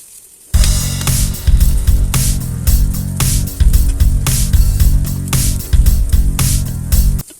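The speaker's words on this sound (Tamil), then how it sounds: "இது நல்லா ப்ரௌனிஷ் கலர் வர்ற வரை ஃப்ரை பண்ணிக்கிட்டே இருக்கணும்" Onions frying and being stirred in a pan while browning for an egg curry: loud, close, continuous sizzling with rhythmic scraping strokes of the spoon, no talk.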